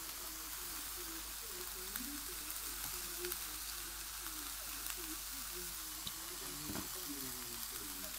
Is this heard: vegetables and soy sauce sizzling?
yes